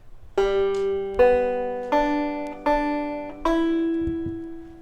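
A clawhammer banjo tune, five bright notes struck in a steady slow rhythm, each ringing out and decaying before the next, with no voices.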